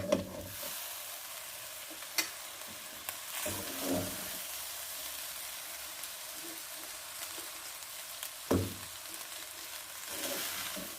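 Rice added to a hot pan with egg yolks, frying as it is stirred: a steady close sizzle with occasional scrapes and knocks, and no talking.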